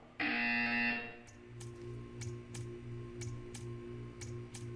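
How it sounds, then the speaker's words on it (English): In the video game Portal 2, a loud electronic buzzer blares for under a second, then a regular ticking pulse repeats steadily over a low hum. "You will hear a buzzer."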